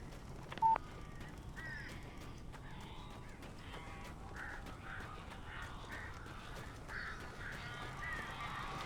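Crows cawing inside a building in the Alan Wake Remastered video game, several harsh calls repeating over a low ambient rumble, with a brief sharp sound near the start.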